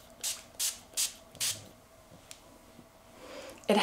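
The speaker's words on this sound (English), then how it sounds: "I'm just going to spray it here so you can see" Four short hissing bursts of Pattern shine spray misted onto hair from about 6 to 12 inches away, evenly spaced and fairly close, followed by quiet and a faint rustle.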